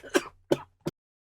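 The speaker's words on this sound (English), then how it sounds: "that was a really long coughing fit" Three short, rough coughs come close together, loud and near, then stop, as the tail end of a coughing fit.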